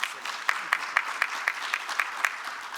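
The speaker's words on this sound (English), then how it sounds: "I hope you'll give him a warm round of applause" Applause from an audience at a health policy conference keynote, fairly faint and distant, with sharper claps standing out at a steady rhythm near the listener.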